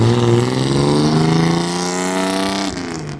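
A loud Toyota Mark II at a cars-and-coffee meet gives a sustained, heavy engine drone that holds steady at close range, then eases off slightly near the end.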